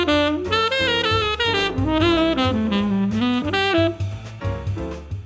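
A continuous jazz melodic phrase outlining a backdoor substitution plays over a regular 2-5-1 chord accompaniment, with moving single notes above a steady bass and chords; loud and close, no talking.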